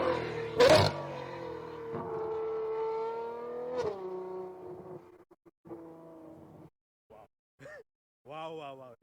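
A Ferrari 812 fitted with a Novitec straight-pipe exhaust revs with a sharp blip, then a long sustained high wail that falls away, followed by quieter pops and voices reacting.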